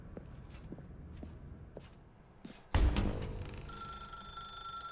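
A telephone in The Stanley Parable starts ringing suddenly after quiet footsteps, a loud sustained electronic ring with steady high tones that carries on to the end.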